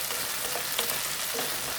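An egg fries in a pan alongside hotdog and baked beans, giving a steady, dense sizzle with faint crackles and pops, close and continuous throughout.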